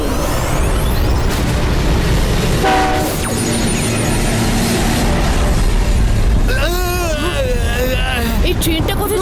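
A cartoon train rumbles with a short horn blast amid dense sound effects, then voices and whooshing tones take over later.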